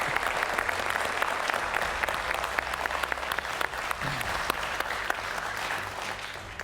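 Audience applause at a democracy summit in Copenhagen: dense, sustained clapping from a sizable crowd, loud and even throughout with no talking over it.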